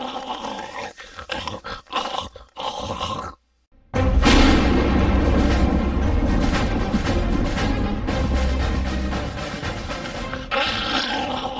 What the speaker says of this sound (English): I accidentally held on to the bomb too long.